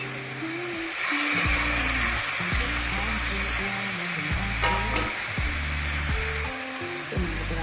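Food frying in a pan makes a loud, steady sizzle, close up, with a broad hiss and irregular stirring scrapes and clanks repeating throughout, without voices.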